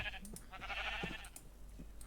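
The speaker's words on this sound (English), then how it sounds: "all I can hear is those sheep" Sheep bleat in Minecraft, a few faint, short calls over a low steady hum.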